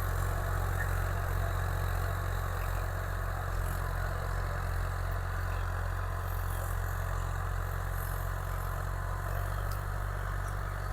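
A steady tractor engine drones on continuously while preparing a field for potato planting, low and rumbling with a mechanical chug, close by and loud throughout, with no voices.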